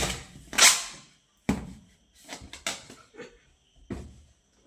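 Firecrackers burst at a birthday celebration in a loose, irregular series of sharp bangs, each cracking out loudly and trailing off briefly, with quiet pauses between.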